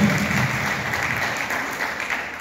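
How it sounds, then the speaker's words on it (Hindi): Applause from a crowd of farmers welcoming a minister at an Agro Nature Farming programme event, a steady dense clatter of clapping lasting throughout, fairly loud and even with no talk over it. "तालियों से मंत्री का स्वागत करें।"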